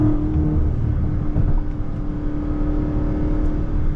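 Engine of a crashed Dodge Challenger Scat Pack Last Call, earlier prone to stuttering, running in a steady loud drone with a low rumble and mild revving, close by and continuous with no voices.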